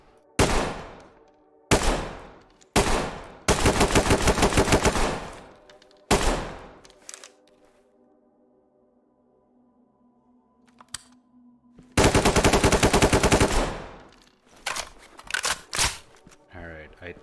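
Gunfire in a video game comes in loud, close bursts: several single shots, then long sustained automatic volleys, with quiet gaps between them and more scattered shots at the end.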